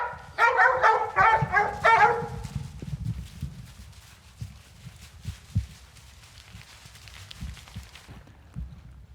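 Hunting dogs bay and bark steadily for a couple of seconds while cold-trailing a deer through a wooded saddle, then fall away into quiet outdoor rustling and scattered thumps.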